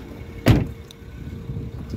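A BMW 325i M Sport's bonnet is lifted open, giving one loud, short clunk and rustle of the release, followed by a quiet rattle and faint ticks as it rises on its dampers.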